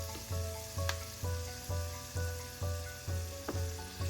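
Turmeric and Kashmiri red chili powder sizzle in hot oil for a chayote pickle with the stove switched off, a steady close crackle broken by a regular rhythm of about eight scraping stirs.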